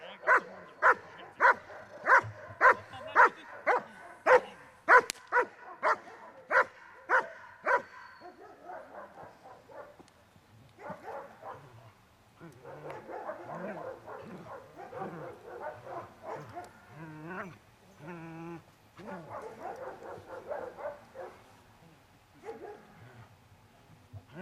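A dog barks during guard-and-protection training, first in a steady, evenly spaced series of loud barks, then breaking into rougher barks, yips and whimpers mixed with commotion.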